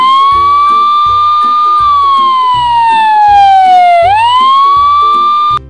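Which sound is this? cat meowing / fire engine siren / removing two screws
fire engine siren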